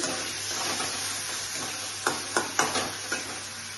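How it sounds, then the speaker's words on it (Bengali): Paneer curry with tomato sauce, sesame seeds and milk sizzles in a pan under a constant hiss, then several sharp spoon scrapes and stirs come in a quick cluster near the end. "টমেটো সস দিয়েছি, দিয়ে নাড়াচাড়া করে"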